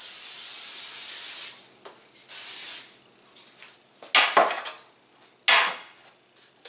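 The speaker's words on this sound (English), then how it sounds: "I'm gonna take some butter flavor spray here." Several sharp hissing bursts of butter-flavor cooking spray, two long ones first and then shorter puffs, close by with light clinks in between.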